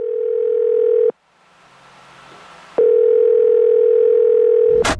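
A telephone rings out a loud, steady dial tone while a call is made. It sounds twice, with a short gap of hiss between, and cuts off at the end.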